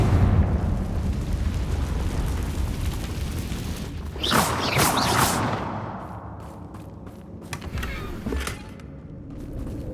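A Confringo fire spell in Hogwarts Legacy bursts with a sharp explosive boom and whoosh midway, after a low rumbling bed, followed by scattered crackling debris that fades out.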